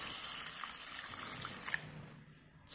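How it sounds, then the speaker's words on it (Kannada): Rice and urad dal being rinsed in water for idli and dosa batter, a soft continuous sloshing and trickling of water with small splashes, close and fairly quiet, no voices. "ಅಕ್ಕಿ ಮತ್ತು ಉದ್ದಿನಬೇಳೆ ಎರಡನ್ನು ನೀರು ಚೆನ್ನಾಗಿ ನೀರು ಹಾಕಿ ಚೆನ್ನಾಗಿ ತೊಳ್ಕೊಳ್ಳೋಣ"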